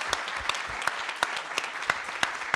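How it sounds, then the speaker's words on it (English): Audience applause for the Assembly District 50 Woman of the Year award at a community forum: a steady wash of clapping from a crowd, with a few sharper individual claps standing out throughout. "So please give her a round of applause."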